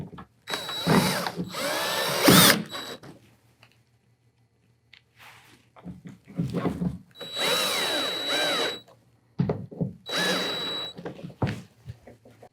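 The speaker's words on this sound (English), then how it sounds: "screw the screws back onto the" Bursts of a power drill whir in short runs, pausing between, as screws are driven into the steering mount of a MirageDrive 360 steering system during a steering system replacement; close and fairly loud, with no talking.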